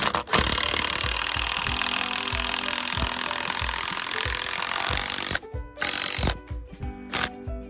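Five-inch LedgerLok structural screws are driven into a wooden porch post for a tiny house porch roof, a loud continuous grinding drill whir with repeated low thumps, then stopping and restarting in short bursts near the end.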